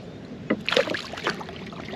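Kayak paddle strokes dip and splash into the water during fishing, a few close, soft sloshes and swishes spread over two seconds with light wind in the background.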